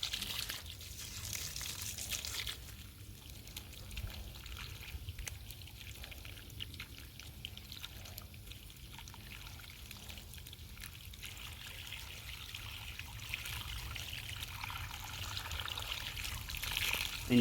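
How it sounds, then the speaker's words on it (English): Water pours steadily onto the thick roots of a lettuce plant, making a continuous, close splashing trickle that runs the whole time and swells slightly toward the end, with no voices. "Now we'll start adding some water to this and see how nice that root system is."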